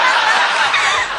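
A parrot mimics a chimpanzee with a short, raspy, breathy burst of chattering hoots, close and loud, lasting about a second.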